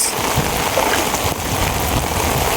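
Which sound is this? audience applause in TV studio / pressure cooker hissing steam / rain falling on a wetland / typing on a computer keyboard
rain falling on a wetland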